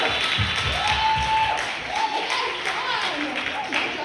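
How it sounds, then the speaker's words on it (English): Audience applause at a live BLOS 2025 event, with scattered clapping mixed into loud cheering and excited voices, a few distinct claps up front, then crowd noise continuing. "Give her a round of applause!"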